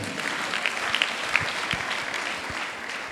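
A church congregation claps in a steady, dense wash of applause at moderate distance, with no voices standing out above the clapping throughout.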